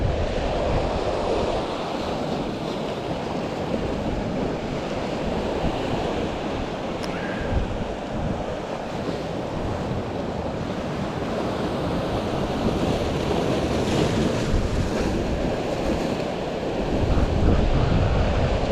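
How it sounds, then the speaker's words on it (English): Surf rolls in continuously at Lusty Glaze Beach in Cornwall, with broad wave wash and gusty wind buffeting the microphone, loud and steady with no voices. "This is Lusty Glaze Beach next to me."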